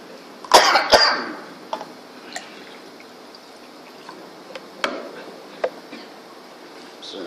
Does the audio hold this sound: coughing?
yes